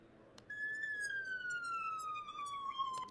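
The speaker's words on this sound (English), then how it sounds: "Here we have the siren." A single siren tone holds high, then glides slowly downward for a few seconds, clear and loud, with no voices over it.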